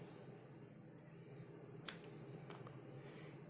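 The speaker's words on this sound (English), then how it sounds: "To finish this, make chain 1 and cut the yarn." Scissors snipping yarn at the end of a crochet piece, one crisp cut followed by a fainter second snip against a quiet room hiss.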